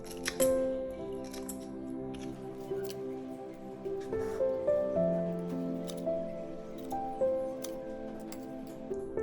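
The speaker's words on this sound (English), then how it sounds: "Cut off the legs of the prawn." Scissors snip the legs off raw prawns during seafood prep, a few quick, soft cuts sitting beneath steady background music.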